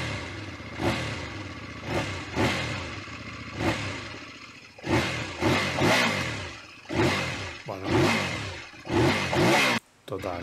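A Kove ADV 800 adventure motorcycle with a gold fork revs in a series of sharp throttle blips, about a dozen rising and falling roars with short idle gaps between them, close and loud.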